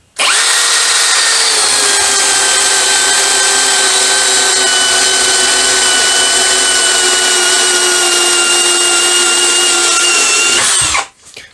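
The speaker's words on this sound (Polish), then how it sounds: "tu jeszcze starczy miejsce na wywiercenie świdrówką FI32" An Einhell TP-CD 18/120 cordless impact drill boring with a 32 mm auger bit whines steadily at high speed for about eleven seconds, loud and close, then cuts off abruptly at the end.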